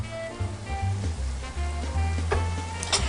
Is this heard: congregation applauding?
no